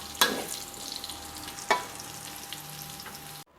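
Garlic frying in oil in a pan for a Thai salt-roasted pork dish, giving a steady close sizzle with a couple of sharp stirring scrapes and clatters before the sound cuts off abruptly.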